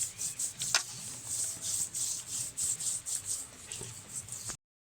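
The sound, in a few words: rubbing eggshell scrub paste onto skin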